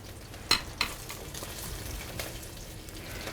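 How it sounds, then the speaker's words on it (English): Chicken pieces sauteing in oil in a pan, a quiet continuous sizzle and crackle with a couple of sharp utensil clinks near the start, soft and close. "I'm ready to start sauteing my chicken."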